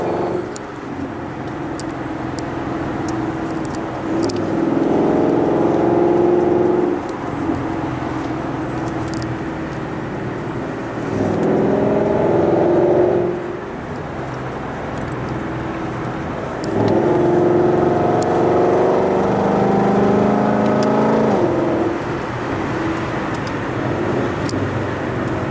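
A Ford Mustang V8 rumbles in bursts, its deep engine note swelling loudly three times with steady idling between, heard close by.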